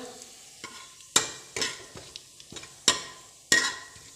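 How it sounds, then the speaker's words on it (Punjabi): Cumin seeds go into hot desi ghee in a kadai, making a soft sizzle punctuated by several loud, sharp scrapes and clacks of a spoon stirring, spaced irregularly over a few seconds, with no voice. "ਆਪਾਂ ਦੇਸੀ ਘਿਓ ਪਾ ਦਿਆ ਕੜਾਈ ਰੱਖ ਕੇ ਤੇ ਹੁਣ ਆਪਾਂ ਪਾਤਾ ਜੀਰਾ ਵਿੱਚ"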